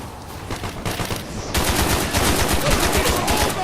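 Rapid automatic gunfire from a machine gun in the video game Call of Duty Black Ops, dense and sustained, growing louder partway through as bursts overlap into a continuous clatter.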